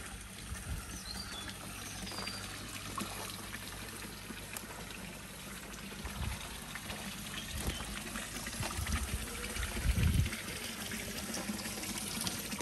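Steady, soft rush of water running through the filter of a 2200-gallon koi pond, a continuous low trickle and wash with a few small splashes, no talking.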